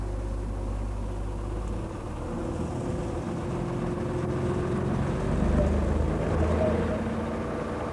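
Small 48 hp auxiliary motor on a Dutch cable ferry, a steady low engine drone running throughout, moderately loud with a faint wash of background noise.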